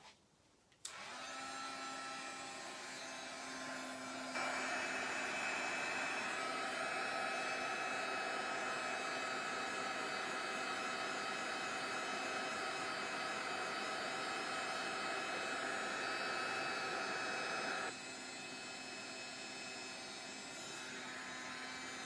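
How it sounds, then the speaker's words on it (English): A heat tool drying embossing powder on a stamped craft piece: an abrupt start into a steady, close, blowing whir that grows louder for a long stretch, then eases back slightly near the end. "Let's heat dry this."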